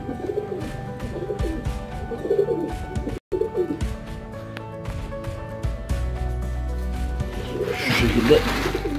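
Pigeons coo steadily around a feeding spot where tea leaves are scattered for them, layered with other bird calls and some chirping, with a brief drop near the middle and a louder flutter of activity toward the end.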